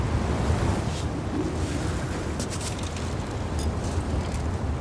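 Rushing waterfall water in the climbing game Cairn gives a broad, steady roar like surf, with faint splashes over it, continuous and fairly loud with no talk.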